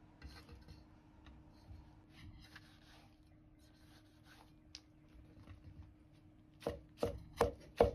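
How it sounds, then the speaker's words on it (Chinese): A knife slices through a tomato on a cutting board: quiet, soft cutting and scraping for several seconds, then four sharp, louder chops against the board near the end, no talk. "再片成薄片"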